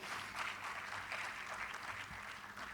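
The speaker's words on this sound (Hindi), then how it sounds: "सभी जनजातियों के लिए, आदिवासियों के लिए, उनकी कला और विधा के लिए जोरदार तालियां बजाएंगे" Steady applause from an audience at a tribal pride day celebration marking Birsa Munda's birth anniversary, dense and even throughout with no pauses, heard at a moderate distance.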